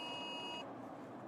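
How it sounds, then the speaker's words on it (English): Weather radio and phone alert tones sound during a tornado warning, a steady high electronic beep held briefly then cut off, faint against low vehicle rumble. "Hear all the weather radios going off."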